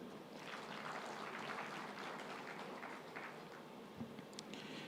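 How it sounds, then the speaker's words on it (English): An audience at a health awards ceremony applauds its heroes, a steady wash of many hands clapping together that stays even and sustained throughout, heard from within a large hall. "Let's clap for them."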